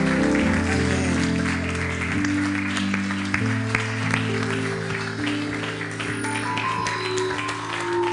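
A church congregation claps and cheers over sustained organ or keyboard chords, steady applause with scattered louder claps throughout.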